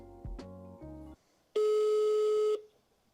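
A few short dialing beeps of different pitches, then a single long steady electronic tone on a phone line, close and clear.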